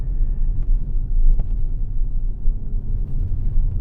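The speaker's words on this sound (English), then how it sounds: "now in dynamic mode, the gears are changing really nicely" A 2025 Audi S5 in dynamic mode gives a low, steady engine and road rumble from inside the cabin, with slight surges as the gears shift, and no talking.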